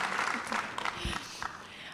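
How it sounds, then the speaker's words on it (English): A round of applause from a live audience in a room at a SXSW 2024 event, a short, steady wash of clapping held at moderate level. "You're getting a round of applause in the room."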